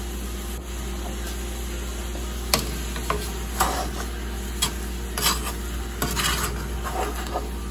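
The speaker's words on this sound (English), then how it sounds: "So we have to stir the berries, the berry mixture, occasionally." A spoon stirs simmering berries and sugar in a pot on medium heat, giving sparse scraping clinks and soft bubbling over a steady low hum, close and moderately loud.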